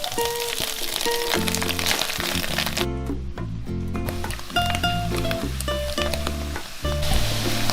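Minced garlic, dried radish and dried shrimp crackle and sizzle in a hot wok, a dense, loud frying hiss with scraping stirs, while music plays underneath throughout.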